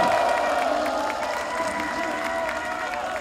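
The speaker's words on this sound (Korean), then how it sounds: "우리 오늘도 우렁찬 함성과 박수로" A large outdoor political rally crowd for democracy and intelligence-agency reform in Korea cheers and claps together, a sustained roar of shouting voices mixed with applause that fades slightly toward the end.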